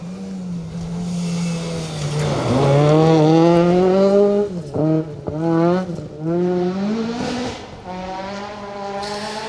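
An MG rally car on a gravel forest stage at the Greystoke Stages rally, with an engine note that rises loud and close as it passes. The revs surge and dip through sharp gear changes, then the sound fades as the car moves away.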